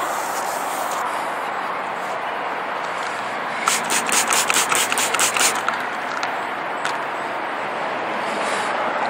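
Wet sanding of the painted body of a 1995 Mercury Grand Marquis, done outdoors in the sun: a steady, close abrasive hiss with a brief run of quick, rhythmic rubbing strokes near the middle.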